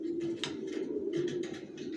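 Young racer pigeons in moult coo and murmur in a loft, a steady low throaty burble that runs the whole time, with soft rustling and faint chirps layered over it, close and continuous.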